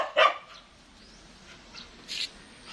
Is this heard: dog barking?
yes